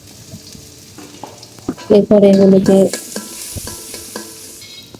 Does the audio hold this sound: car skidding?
no